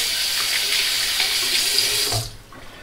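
A tap runs into a sink while a RazoRock SLOC razor is rinsed, a loud steady splashing stream that cuts off near the end.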